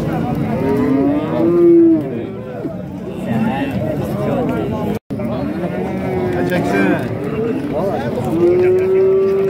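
Cattle moo repeatedly and loudly at a busy livestock market in Xaçmaz, with long drawn-out calls rising over a constant hubbub of crowd chatter and people talking nearby.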